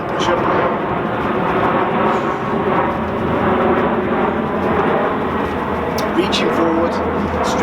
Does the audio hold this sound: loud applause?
no